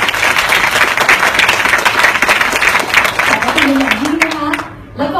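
An audience at an award ceremony claps loudly and steadily for several seconds before the applause fades, with a voice speaking over the tail end.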